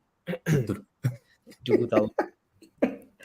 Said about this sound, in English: I love that you coughed first.